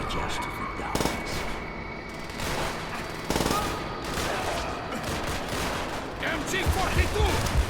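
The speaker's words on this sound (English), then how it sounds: "MG-42 on the left platform! Open fire!" MG-42 machine gun fire in Call of Duty: World at War, a continuous dense stream of loud gunfire with extra shots and battle noise layered over it, sharp bursts standing out near 1 and 3.3 seconds, and a voice shouting briefly within the din.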